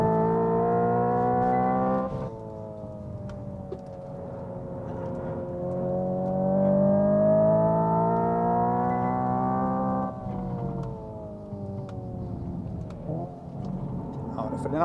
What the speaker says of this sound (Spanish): Con el freno ponemos la nariz donde queremos y vamos con el acelerador.